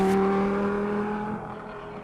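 A sports car accelerates hard in second gear, its engine a strong, close tonal drone that gradually fades in the second half.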